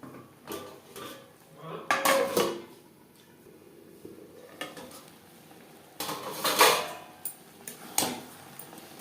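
Metal utensil scraping and clanking against a pan while stirring pabda fish curry with peas over a high-to-medium gas flame, in a few short bursts with quiet simmering between.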